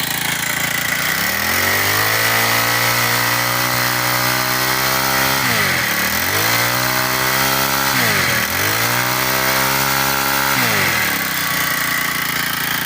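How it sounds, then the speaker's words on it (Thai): Honda GX35 brush cutter engine revving hard, rising to a loud steady high-rpm whine, dipping briefly twice and climbing back, with a sharp buzzing tone throughout and no talking. "ทดสอบเครื่องยนต์ไปพร้อมกันเลยนะครับ เดี๋ยวฟังรอบสูงนะครับ"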